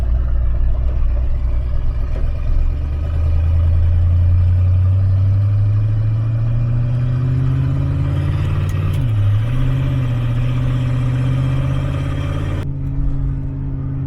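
Turbocharged small-block Chevy V8 with FiTech fuel injection in a Camaro, driving with a loud, steady low engine drone that rises in pitch as it accelerates, dips briefly, then settles into cruising.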